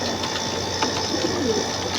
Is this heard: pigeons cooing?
yes